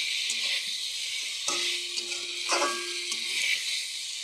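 Flat beans (sim) with chili powder and turmeric fry in a pan, a continuous close sizzle broken by a few short stirring clinks and scrapes.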